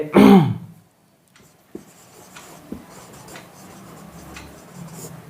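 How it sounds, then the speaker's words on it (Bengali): Chalk or a marker writing a sentence on a board gives faint scratchy strokes and a couple of soft taps after a louder burst of throat or breath noise at the start. "ধরে নাও এখানে একটা বাক্য লিখলাম আমি"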